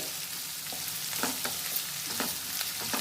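Pulla upma with curry leaves fries on a low flame, a constant close sizzle with repeated soft scrapes and taps of a spatula stirring the pan.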